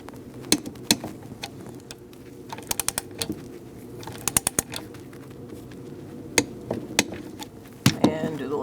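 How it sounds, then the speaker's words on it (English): A torque wrench clicks repeatedly while intake manifold bolts are tightened to spec in a crisscross pattern on a 2008-2014 Mercedes-Benz C300 3.0L V6, sharp close clicks in irregular bursts over a quiet workshop background. "Let's torque these to 72 inch-pounds."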